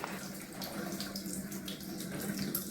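A short length of Chinese yam is rinsed under a running kitchen tap, giving a steady, close splashing stream of water with no voices.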